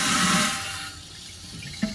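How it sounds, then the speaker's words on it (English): A urinal flush valve is opened and eased shut, releasing a loud rush of flushing water that fades to a low hiss, ending in a short clunk of the valve. "you can just open them and close them a bit to make it flush"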